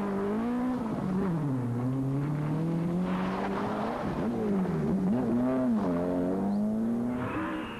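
A 1986 Galway Rally car being pushed hard despite engine trouble, its engine revving continuously up close with a whining pitch that rises and falls through gear changes.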